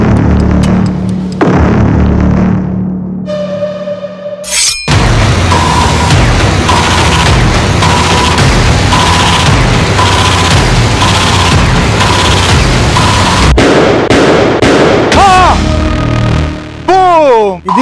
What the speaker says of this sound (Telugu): వస్తాను గారు, ఈ ఫస్ట్ బాంబ్ బ్లాస్ట్ అయిపోయింది.